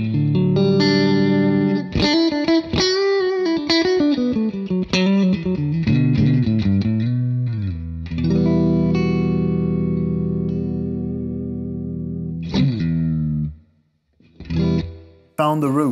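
Electric guitar played clean through a Marshall amp with no fuzz pedal, sliding and bending lead notes and sustained chords, close and loud, ending with a few short strums after a brief gap.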